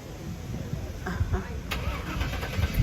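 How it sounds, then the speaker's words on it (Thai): A large American car's engine cranks to life and settles into a deep, rumbling roar, heard continuously from nearby outdoors with faint voices in the background. "เสียงกระหึ่ม คันใหญ่ มีแต่รถอเมริกันเท่านั้นเลยค่ะ"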